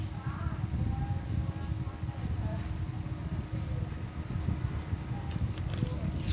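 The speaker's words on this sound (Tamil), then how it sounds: "இந்த ஃபேன் வந்து சுற்றுது." A steady low mechanical whir of an electric fan running continuously, moderately close, with faint background noise.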